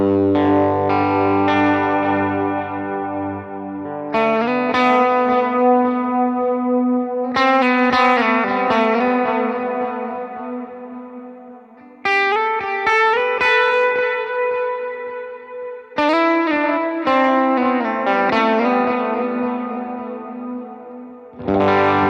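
An electric guitar runs through a Line 6 HX Stomp in the amp's effects loop, strummed chords ringing out loud and close with distortion, chorus and echo tails, several phrases each sustaining for seconds.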